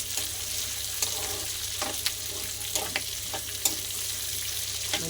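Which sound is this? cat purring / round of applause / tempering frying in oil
tempering frying in oil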